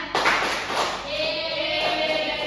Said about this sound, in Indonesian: Tepuk sikut, tepuk pundak, tepuk tangan.